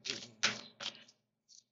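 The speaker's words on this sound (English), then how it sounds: "Let me keep shuffling" Playing cards are shuffled by hand during a tarot reading, giving three quick crisp riffling bursts close up, then a brief softer flick after a short pause.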